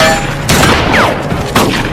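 Gunfight in the zombie film Survival of the Dead, with loud bursts of gunfire cracking out in a busy battle mix, sharp reports near the start, middle and end over a dense rumbling background.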